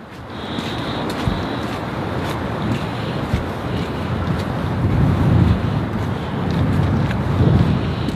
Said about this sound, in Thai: เนี่ยลมพัดแค่นิดเดียวเองไงทำไมมันหนาวจังอ่ะ